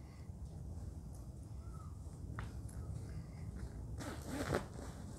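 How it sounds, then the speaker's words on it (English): A coat's zipper pulled up while sorting a donated clothing haul indoors, a faint brief zip rasp near the end against quiet background, with a distant crow cawing. "I'm just zipping it up"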